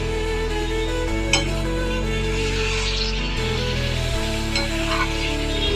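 Prawns and cabbage fry in ghee, giving a steady loud sizzle with a few light clinks of the stirring utensil against the pan.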